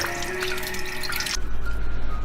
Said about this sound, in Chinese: 先来清洗一下。